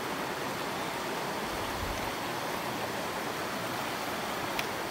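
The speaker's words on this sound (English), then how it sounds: "Crossing Agnes Creek. Pretty much our first river ford" Creek water rushing steadily during a river ford of Agnes Creek on a backcountry hiking trail, a dense, even broadband wash holding close and constant throughout with no voices.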